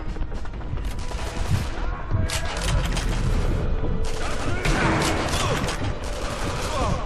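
Dense, continuous bursts of gunfire with explosions and mechanical clatter in the video game Sniper Elite V2, loud and busy throughout, under occasional Thai voices.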